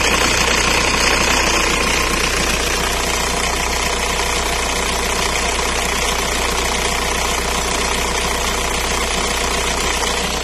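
A VW/Audi 1.9 TDI 110 hp diesel with hard starting and injection timing being adjusted idles close by, with a steady loud clattering knock and constant rumble throughout.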